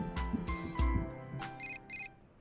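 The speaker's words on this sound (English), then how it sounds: "We're gonna get a phone call, apparently." Electronic phone ringtone in the video game Persona 4 Golden, a short bright melodic jingle of chiming tones, clear and alone.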